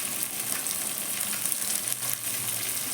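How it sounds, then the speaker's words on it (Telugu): Tomato and fenugreek leaves fry in a pan with a steady, close hissing sizzle, continuous and even, broken only by faint stirring. "ఇదిగోండి ఈ విధంగా ఫ్రై అయినప్పుడు మనం తీసుకున్న ఒక టమాటా అండి"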